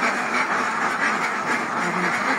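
A flock of ducks quacks in a dense, continuous chorus at close range during a farm vaccination session, many overlapping calls blending into a loud steady clamor with no speech.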